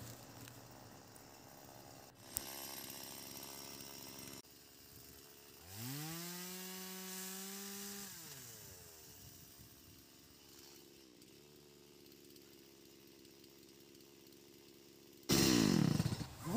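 A chainsaw cuts a tree and strikes a nail in the wood, giving a quiet idle and then revving rises that whine and fall, fairly distant, ending in a harsh loud burst.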